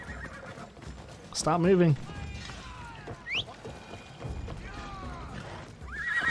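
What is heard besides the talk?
horse neighing in video game Assassin's Creed Odyssey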